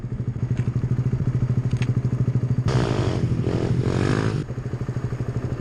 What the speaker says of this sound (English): I'll show you a weird wheelie here in a second.